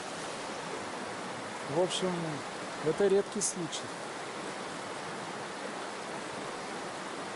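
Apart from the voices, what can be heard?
river flowing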